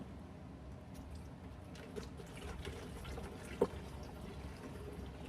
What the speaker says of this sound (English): Got the water, got the jug. I made a little funnel, and I'm gonna attempt to pour this stuff in here